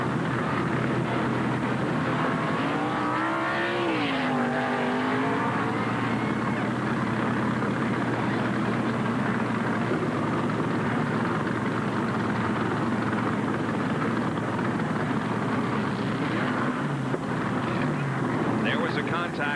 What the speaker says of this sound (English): And here's the crash from the in-car.